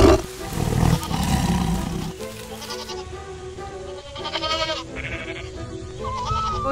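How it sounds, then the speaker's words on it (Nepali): A tiger roars while attacking and eating a herd of goats, the goats bleating in distress; loud, overlapping animal cries over a dense backing score, with no talk. "हेर्दा हेर्दै मुन्नुको सबै बाख्राहरू बाघले खाइदियो।"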